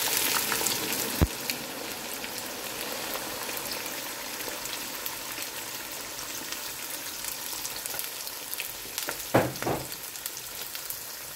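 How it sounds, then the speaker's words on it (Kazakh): Oil heating hard in a kazan crackles with a steady, close sizzle throughout, a couple of sharp pops and spatters standing out near the start and toward the end. "Бізде май осылай қатты қайнағанда өзгереді."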